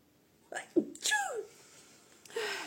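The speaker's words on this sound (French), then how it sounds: "Ah, j'ai envie d'éternuer." A single close sneeze, preceded by a short breathy build-up and followed by a faint vocal sound, in a quiet indoor setting.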